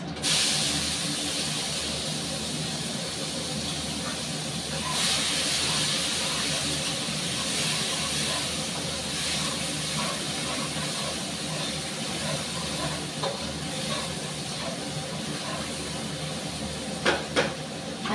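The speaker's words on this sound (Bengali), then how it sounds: "আর কুচিয়ে রাখা পেঁয়াজ আর টমেটোটা দিয়ে দিচ্ছি" Chopped onion and tomato dropped into hot oil with five-spice tempering after frying fish, a continuous broad hiss of sizzling that holds steady, with a few faint clinks near the end and no talking.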